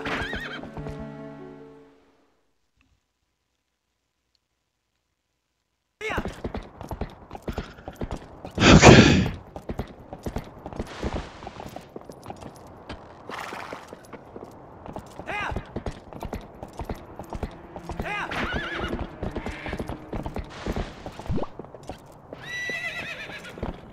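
A horse in the video game Twilight Princess HD, heard as one loud neigh partway through, then steady clip-clop hoofbeats of galloping, with game music at the start and a few mechanical creaks.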